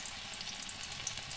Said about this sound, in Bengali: মিক্সারটা নিয়ে গোল গোল করে এর মধ্যে ভাজতে হবে।